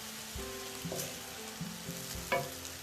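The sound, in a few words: stirring garlic vegetable fried rice in a pan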